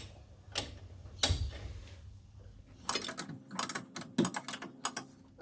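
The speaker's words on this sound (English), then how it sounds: "if you have a ratchet spanner like I do, just makes things a little bit quicker" A ratchet spanner works on a brake caliper bolt of an R33 Skyline, giving a few soft knocks and then quick bursts of close, crisp clicking.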